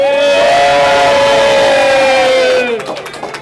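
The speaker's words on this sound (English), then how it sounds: "Crowd, hoot and holler and clap." Near-capacity crowd at a bowling tournament hooting and hollering in one loud sustained cheer with a drawn-out tonal yell, fading into scattered clapping near the end.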